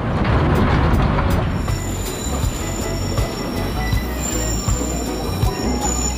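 A train on a Caribbean line passes close by near a road crossing, its wheels squealing high and steady over loud rolling clatter and rhythmic clicks.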